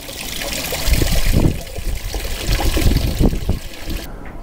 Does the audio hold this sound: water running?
yes